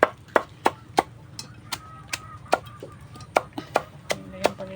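Banana stalk, papaya and taro being chopped for native pig feed, with roughly a dozen sharp, crisp blade strikes in an uneven but steady rhythm, close and clear over a low background murmur.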